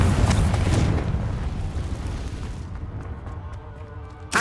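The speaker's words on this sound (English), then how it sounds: "Confringo!" A Confringo fire-spell blast in the video game Hogwarts Legacy: one loud, booming explosion at the start that rolls and fades over a few seconds, with a sharp burst cutting in at the very end.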